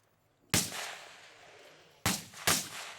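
Gunfire on a Thai Marine Corps shooting range during a rapid-fire drill: three sharp, loud shots, one alone and then two in quick succession, each ringing out with a short decaying tail.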